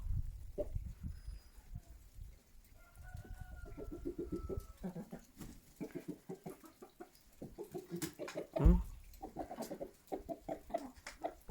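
Chickens clucking in a backyard flock in cold weather, a close, busy run of short clucks and squawks with a louder burst partway through and some soft background noise.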